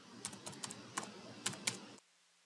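Quick bursts of keystrokes on a computer keyboard as a conda install command is entered, a couple of seconds of close, uneven clicking that stops abruptly into near silence.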